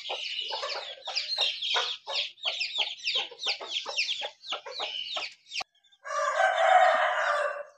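Chickens and chicks cluck and squawk in a rapid, busy series at close range inside a bird cage, followed by a loud rooster crow.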